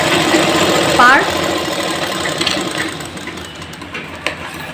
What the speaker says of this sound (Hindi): क्रॉच इसी तरीके से हम लोग सिलते हैं ना, क्रॉच वाला